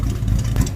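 A Dodge muscle car idles roughly with exhaust leaks, a brief burst of loud, close, throbbing low engine rumble.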